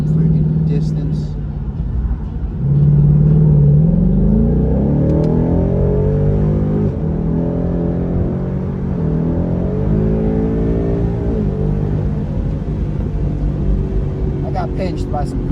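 A Ford Mustang GT with a 10-speed automatic accelerates hard on a two-lane highway, its engine note rising in pitch through upshifts over a constant road rumble, while someone talks over it.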